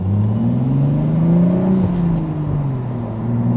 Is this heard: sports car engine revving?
yes